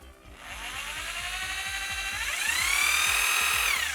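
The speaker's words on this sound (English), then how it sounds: "and I'll start polishing it out" A power polisher buffs a billet wheel, a close steady motor whine whose pitch rises partway through under heavier load, with a faint rhythmic rubbing underneath.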